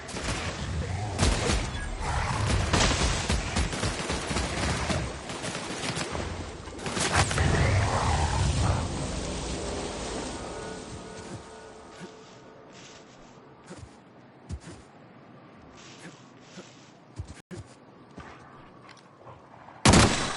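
Combat in the video game The Outer Worlds: dense, loud bursts of rapid gunfire and heavy shots crowd the first ten seconds, then thin out to scattered isolated shots and impacts, ending on a sudden loud hit.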